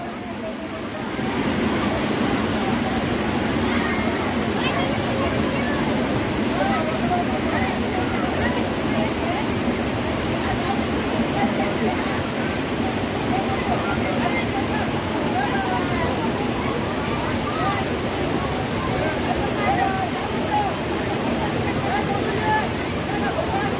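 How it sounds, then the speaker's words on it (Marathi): A continuous heavy roar of water pours and rushes nonstop, loud and close, as Ransai Dam in Uran, Raigad, overflows its spillway. "रानसे डॅम एकदम फुल होऊन गेलेला आहे ओव्हरफ्लो झाला एकदम पाणी पण ओव्हरफ्लो"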